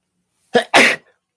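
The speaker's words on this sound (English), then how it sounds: "The sneezing shit's gotta stop." A person sneezes twice in quick succession, a short catch followed by a louder full sneeze, close and alone in a quiet room.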